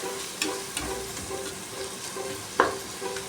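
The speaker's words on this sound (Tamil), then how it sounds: "தக்காளி போட்டுட்டு நல்லா தோல் பிரிஞ்சு வர அளவுக்கு வதக்கிக்கணும்." Tomatoes sauté in oil in a pan for chicken biryani, a faint, low sizzle broken by a few soft stirring clatters and scrapes from a spoon, with no voices present.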